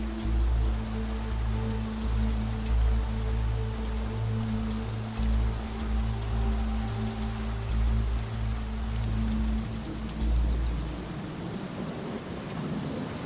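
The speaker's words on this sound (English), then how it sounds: "the deluges unleash half a meter of rain" Heavy tropical rain pours down steadily in Tanzania with a dense hiss of drops, while a deep rumble of thunder rolls underneath for most of the stretch before fading.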